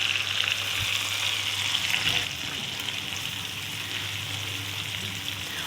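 Tomato paste fries with dried coriander and other spices in a pan over a low flame, giving a constant dense sizzle that crackles and hisses close by. One soft knock near the start, no voices.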